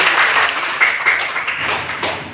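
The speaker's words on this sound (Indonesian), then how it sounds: "Tepuk tangan sekali lagi." Dense, close clapping from a group after a call for another round of applause, a short steady burst of hands with no voices over it.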